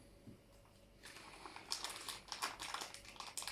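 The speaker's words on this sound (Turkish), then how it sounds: "Poşeti biraz daha açsam daha rahat yapardım aslında." A plastic bag of Jibiar Dragon Berry hookah tobacco crinkles and rustles as it is handled, starting faint and growing into a busier run of close, crisp crackles with no talking.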